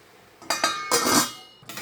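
A lid is set onto a cooking pot of mango jelly, giving a few close metallic clanks and clinks, a brief scrape, then a final knock.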